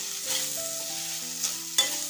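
Finely ground fresh coconut roasting in ghee in a pan for coconut chikki, giving a soft steady sizzle with a couple of brief stirring scrapes near the end. Quiet and close, without speech.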